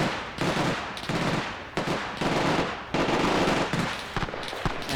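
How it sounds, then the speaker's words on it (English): An MG42 machine gun fires in a WW2 PvP video game, loud rapid bursts of automatic fire broken by short pauses, about five bursts in quick succession. "MG42 firing."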